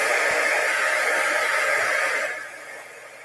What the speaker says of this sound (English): We are going to hit this with our heat tool for just a second.